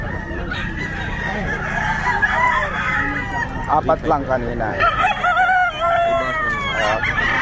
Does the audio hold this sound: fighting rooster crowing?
yes